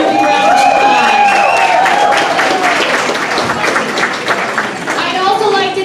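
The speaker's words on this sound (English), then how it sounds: "Give them a big round of applause." Audience applause and crowd noise for an event sponsor at a progressive awards celebration, a dense, steady wash of clapping lasting throughout, with a voice speaking over it.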